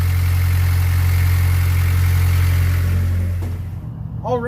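A freshly rebuilt engine runs steadily for about three seconds with a loud, deep drone, then cuts out and fades, leaving faint background noise.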